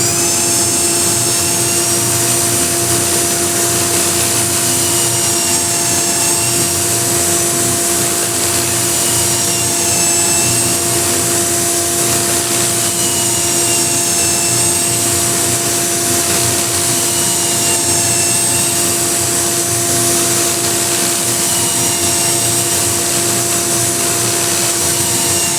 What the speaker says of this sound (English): I'll again switch the rotation so I can sand the wings here.